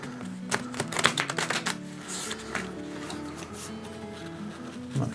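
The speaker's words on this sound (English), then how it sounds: "But I'm going to shuffle it a couple times." A deck of cards is shuffled up close, a rapid riffling flutter in bursts over a soft background hum, with no one speaking.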